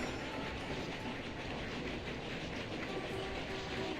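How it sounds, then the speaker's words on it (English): A grain train runs in the Railroad Tycoon II video game, a steady rolling rail rumble with faint clickety-clack, quiet and continuous without talk. "So how's the old grain train doing?"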